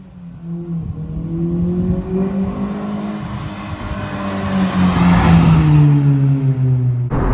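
An engine-swapped Honda Civic with a B-series VTEC engine revs up and holds high, its rising, wavering tone loud and close and building toward the end, with no talk over it.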